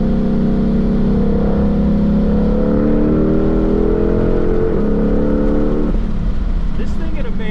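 A 2020 Ford Mustang Shelby GT500 on a race track, its loud engine note from inside the car dropping in steps as it downshifts through the paddle-shift gears, with a steady roar throughout.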